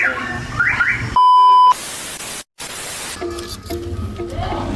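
A newly installed car alarm on a Nissan NV350 van gives a short, loud, steady electronic tone that cuts in sharply over background noise, followed by a brief dropout and then fainter beeping.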